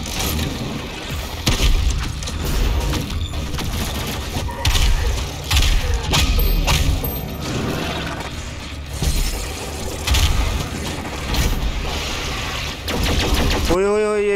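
Rapid machine gun fire in the Doom Eternal video game, a dense loud barrage of shots mixed with explosions and game effects running almost continuously, with a player's excited voice shouting over the action.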